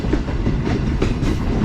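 A Green Line train between Lahore and Rawalpindi, slowly pulling toward Jhelum, gives a brief spell of loud onboard rumble with rhythmic clickety-clack wheel beats over the rails.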